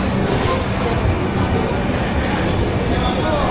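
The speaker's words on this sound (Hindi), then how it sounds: "इंटरसिटी की आई है विवेक एक्सप्रेस," A train rumbles steadily along the platform with wheel squeal and rail noise at an Indian station as the Vivek Express intercity arrives, loud and continuous throughout.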